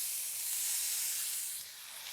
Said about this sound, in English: While that last batch is searing off